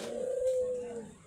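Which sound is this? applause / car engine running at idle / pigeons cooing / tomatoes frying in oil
pigeons cooing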